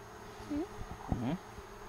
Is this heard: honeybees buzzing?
yes